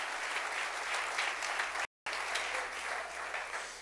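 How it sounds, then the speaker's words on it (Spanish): A church congregation claps in a steady, dense round of applause, broken by one brief gap of silence before the clapping resumes. "denle un aplauso al Rey"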